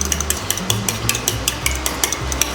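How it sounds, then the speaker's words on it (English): Eggs whisked briskly in a tilted bowl, a quick run of sharp rhythmic clicks of the whisk against the bowl side, close and regular over a low background hum. "You gotta tilt the bowl a little bit, and you whisk in the corner."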